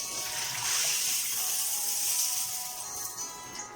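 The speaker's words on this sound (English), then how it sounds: "So what I'm going to do is throw that out again." Rinse water from a bowl of soaked mung beans poured out into a sink, a steady splashing gush that runs continuously for several seconds, close and fairly loud with no talk over it.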